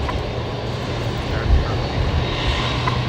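A Rex airliner takes off from runway 19 left at Brisbane Airport, heard as a steady, broad engine roar that stays loud and even throughout.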